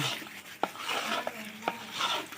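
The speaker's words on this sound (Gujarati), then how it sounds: "આપણે ચણિયાનો દાળનો લોટ નાખી અને મોહનથાળ બનાવી રહ્યા છીએ" Gram flour mixture being stirred for mohanthal sweet in a pan, with soft scraping strokes and a few sharper clinks of the utensil against the vessel, sounding close and steady.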